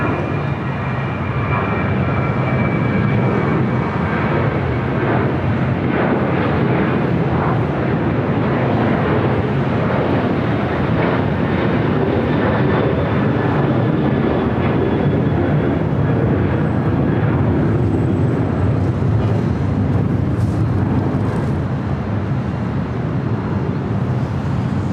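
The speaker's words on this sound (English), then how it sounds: "was Delta Airlines Flight 1361 heading to Seattle in that 737-800." A Delta Airlines Boeing 737-800 departing LAX for Seattle roars loud and sustained for the full stretch, a broad jet rumble with a whining edge.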